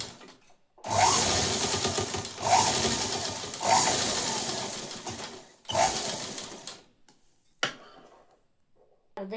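A sewing machine stitches along a folded fabric edge while hook strips are attached, running in three or four steady whirring bursts of a couple of seconds each with short pauses between them, close and clear, with no talk.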